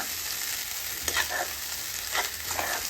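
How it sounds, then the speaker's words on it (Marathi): Sweet corn kernels sautéed in oil over medium heat for chivda, a soft, steady sizzle with a few brief stirring scrapes, fairly quiet and without talk. "आता हे व्यवस्थित आपल्याला असं परतवून घ्यायचं तेलावरती."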